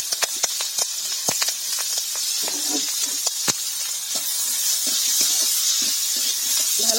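Pointed gourd frying with onion and green chili in a pan gives a steady hiss and sizzle, with scattered crackles and faint clicks of stirring throughout.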